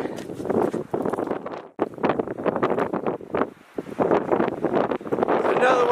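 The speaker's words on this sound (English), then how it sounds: "Kind of windy." Gusty wind in Long Canyon buffets the microphone in rough, uneven bursts with brief lulls between blasts.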